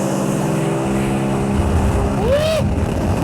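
A JetBlaster Pro jet-powered watercraft riding on water along a slalom course, giving a steady droning engine roar with a rising whine late on, loud and continuous throughout.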